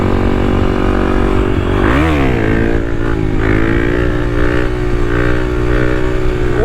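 A Kawasaki KLX300 dual sport motorcycle rides along with a loud, close, steady engine drone; the engine revs up sharply and drops back about two seconds in, then settles into a continuous cruising hum.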